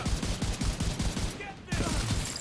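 Rapid bursts of automatic gunfire from a firefight in The Division 2, a steady rattling volley that breaks off briefly before resuming loud and close, with faint game voice prompts underneath.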